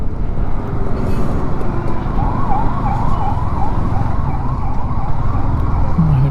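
An ambulance siren wails in a rising and falling pattern for a few seconds on a winding hill road near Coonoor in the Nilgiris. It sits over a steady rumble of road and engine noise.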